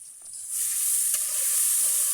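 A chilli, garlic and cumin paste sizzles steadily in a hot pan while it is stirred, the frying hiss jumping louder after a quiet start and then holding close and even.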